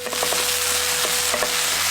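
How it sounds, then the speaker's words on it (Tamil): Ginger garlic paste, onion and green chillies sauté in hot oil, giving a steady, close sizzle with a few soft stirring scrapes and no talking. "2 தேக்கரண்டி இஞ்சி பூண்டு விழுதையும் சேர்த்து நல்லா வதக்கிடுவோம்."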